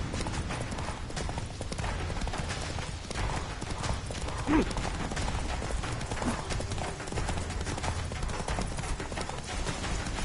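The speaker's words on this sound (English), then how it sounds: "Come on, Roach." A horse gallops in a PS4 video game, a rapid, steady clip-clop of hooves running under continuous game ambience, with a brief louder thump around the middle.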